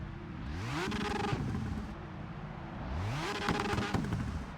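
A car cruising on a highway in the CarX Street game on PC, engine revving up through gears twice with clear shift drops, steady road noise between, no talking.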